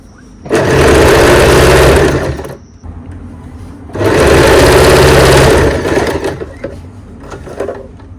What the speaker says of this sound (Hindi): इसके पूरे राउंड में इसी तरह से सिलाई लगा लेनी है।